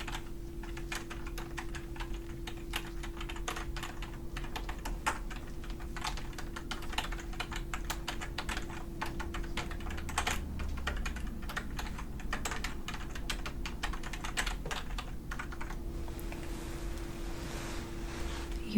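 Steady rapid typing on a computer keyboard while notes are taken in a quiet exam room, a dense close stream of key clicks over a low constant hum, no talking.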